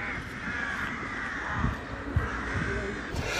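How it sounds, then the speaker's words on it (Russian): Crows cawing in a former military town, harsh calls repeating over steady outdoor background noise, moderately distant, with no talk. "а теперь военный городок наполняет карканье ворон"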